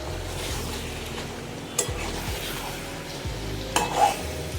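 Meat being stir-fried in a pan, a low steady sizzle with a few sharp scraping or knocking strokes of the spatula, close and fairly even, with a low rumbling hum underneath and no speech.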